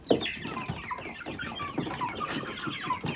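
Purebred Brahma chicks clucking and peeping steadily, several birds calling over one another at close range with no talk.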